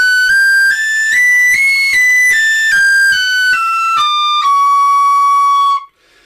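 A tin whistle plays a Locrian mode scale of clear, separate notes, rising then stepping down, each note tongued with a soft breathy attack.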